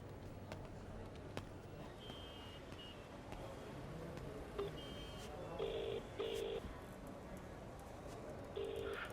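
A telephone call being transferred: several short electronic beeps and tones in separate bursts over a low background hum, with faint voices in the room.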